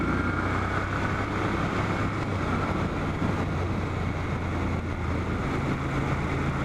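Moto Guzzi Griso motorcycle leaning through a turn on the road, a steady engine drone blended with heavy wind rush over the helmet microphone, continuous and loud throughout without talk.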